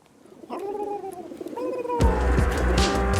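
A pigeon coos in a few soft rising-and-falling calls, followed by a burst of brighter, louder sound at the start of a podcast intro, with no one speaking.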